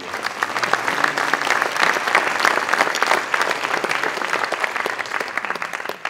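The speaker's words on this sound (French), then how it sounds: "on peut vous applaudir" Steady applause from an audience at an evening business awards event, dense clapping sustained at an even level for several seconds before easing slightly at the end.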